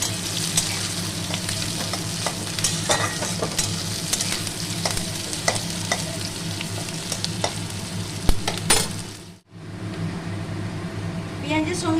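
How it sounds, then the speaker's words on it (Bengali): Onions and green chillies are stir-fried in a pan, a continuous sizzle broken by scraping and clattering stirs, with a brief near-silent dip toward the end before the frying resumes. "পেঁয়াজটা লাল করে ভেজে নেব"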